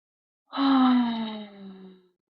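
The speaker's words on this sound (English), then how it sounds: "Big deep breath." A single deep, voiced breath taken during a guided tapping relaxation exercise, a close, loud moan-like sigh lasting about a second and a half and then fading.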